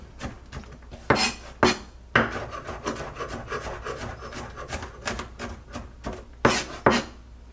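A knife rock-chops fresh garlic on a cutting board, giving a run of close, irregular taps and scraping rasps with several sharper knocks between softer rubbing strokes.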